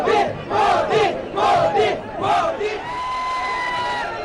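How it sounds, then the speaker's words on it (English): An ecstatic crowd waiting for Prime Minister Modi chants "Modi, Modi" in loud rhythmic unison, four or five swelling call repetitions, then the chanting gives way to a sustained roar. "Chants of Modi, Modi echoed as an ecstatic crowd waiting for the PM caught his glimpse"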